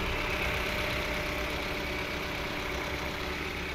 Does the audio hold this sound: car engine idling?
yes